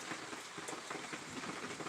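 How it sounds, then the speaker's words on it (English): Light rain falls steadily during stormy weather, a soft, continuous hiss and patter with no voices over it. "The rain's starting to pick up just a little bit."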